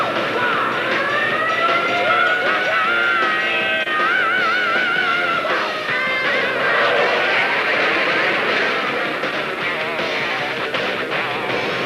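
Warplanes fly overhead with a continuous, loud, whining engine roar that rises and wavers over several seconds, joined by a siren-like tone and no voices.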